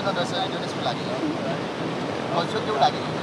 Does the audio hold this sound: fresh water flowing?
yes